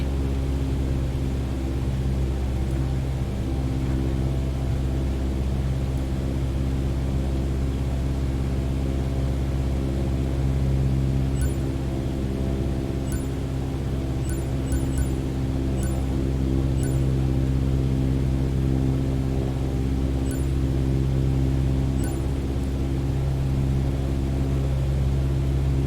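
A steady, droning propeller aircraft engine hums at about 2300 RPM in a flight simulator game, loud and unchanging throughout, with a few faint high electronic beeps partway through and no talk.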